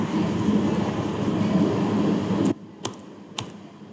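Keys clatter on a computer keyboard in a dense, steady stream over a background hum, then stop, leaving only a few sharp isolated clicks.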